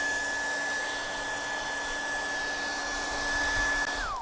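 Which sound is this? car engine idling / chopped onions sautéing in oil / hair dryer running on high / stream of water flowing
hair dryer running on high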